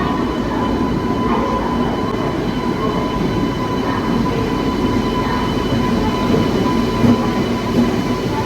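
The Pinakini Express (12711) runs between Vijayawada and Nellore, heard from inside an AC coach as a steady low rumble. Faint rhythmic wheel clatter comes through, with a few brief squeals.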